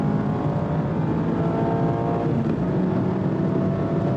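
Mazda MX-5 Miata ND3 engine drones continuously from inside the car on a track lap at Sonoma Raceway, a steady loud rumble holding a fairly even pitch throughout.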